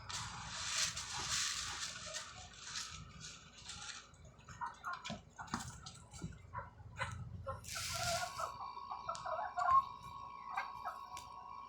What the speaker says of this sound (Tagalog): Malakas na tuka ang mga alaga kong manok.